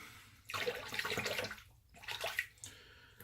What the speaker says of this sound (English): Okay, so I'm gonna rinse my face